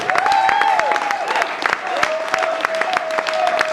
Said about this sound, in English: One more big round, Bill Mattson.